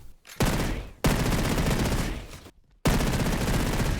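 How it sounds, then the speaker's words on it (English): MP7 submachine gun in a video game firing long rapid automatic bursts, loud and close, with two brief pauses between strings of shots. "MP7, mighty MP7. This is a really good gun."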